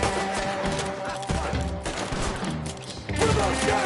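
Gunfire in the Western video game Red Dead Redemption 2, a series of sharp shots popping over a continuous music and ambient bed, with a louder burst near the end.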